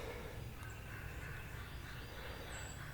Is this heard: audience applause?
no